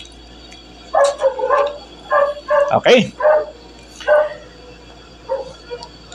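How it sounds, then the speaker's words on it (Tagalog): Dogs barking outdoors, a scatter of short barks and yips at moderate distance, with a person talking over them. "nagsitahulan yung mga aso natin."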